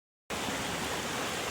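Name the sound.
large waterfall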